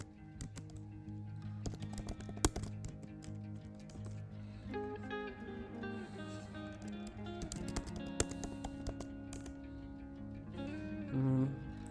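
Quick keystrokes on a computer keyboard come in bursts of typing over a steady bed of soft background music, with a few sharper key clacks standing out.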